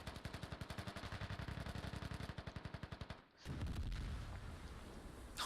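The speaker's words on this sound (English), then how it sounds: "Big explosion there on the hab." Rapid automatic gunfire rattles in an evenly spaced burst during a tactical shooter match in Kokan Valley, then a sudden loud blast erupts as the hab is destroyed, leaving a heavy rumbling roar that lingers afterward.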